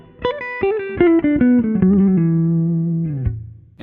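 Electric guitar phrase of quick picked notes, with one note flicked and bent down to a nearby scale tone and held, ringing clearly and up close before a final short note, no voices present.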